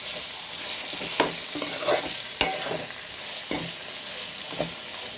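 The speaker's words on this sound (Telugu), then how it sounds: "ఒకసారి అన్నీ కలిసేలాగా మిక్స్ చేసుకున్నాం. టమాటా ముక్కలు అన్నీ కలిసేలాగా." A spoon turns tomato pieces through mutton gravy in a pan, producing a close, steady frying hiss with a few distinct scrapes and taps of the utensil spaced irregularly, and no one speaking.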